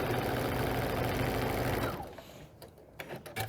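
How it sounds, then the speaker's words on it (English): A sewing machine stitches a diagonal seam across quilt squares, a close, steady rapid whir for about two seconds before it stops, followed by a few light handling clicks. "You're just doing the same thing, sewing diagonal corner or a diagonal seam from corner to corner."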